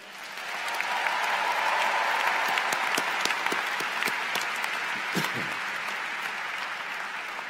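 An audience at a new student convocation applauds, a loud, dense burst of clapping that swells within the first second and holds steady to the end, with faint crowd voices underneath.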